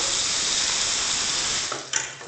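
A bathroom sink faucet on the second floor of a house runs in a steady, loud broadband rush of water, then shuts off near the end, followed by a brief clunk or two.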